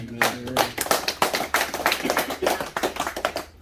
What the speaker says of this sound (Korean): 윤공희 대주교님 건강하시라고 박수 한번 좀